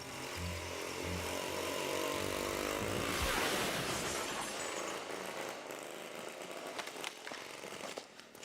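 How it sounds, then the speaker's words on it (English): A Hotsy pressure washer runs with a loud, steady, broadband engine-and-spray roar that holds for several seconds, then thins into rattling clatter near the end. "today I'm challenging the sheer power of the Hotsy pressure washer"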